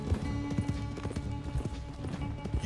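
Hooves of a thoroughbred horse clip-clopping at a fast gallop in the Western video game Red Dead Redemption 2, a steady rapid beat close up over a low rumbling game soundtrack.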